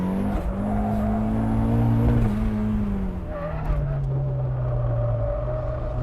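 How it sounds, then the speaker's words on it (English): A turbocharged Mazda Miata on a track lap, engine droning steadily with a tonal squeal of tires locking up under braking into a corner, the pitch sliding downward as it slows. "Just a little bit of lockup coming into the corner."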